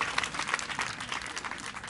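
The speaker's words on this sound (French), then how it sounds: "Applaudissez un peu." Audience applause at a RAFAA Sikensi gathering, a steady wash of clapping from a crowd lasting a couple of seconds at moderate distance.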